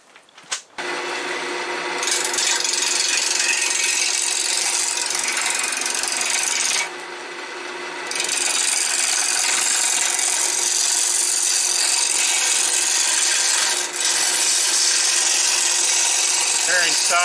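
Swamp alder stock being cut on a lathe for turned hanging ornaments: a loud, steady, broadband rasping roar that runs almost continuously, with one brief lighter dip midway, no voices.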